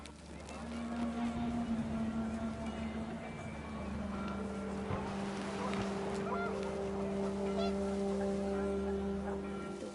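Geese honk in a video game amid wind, a low continuous drone carrying repeated honks and calls that rise and fall in the background.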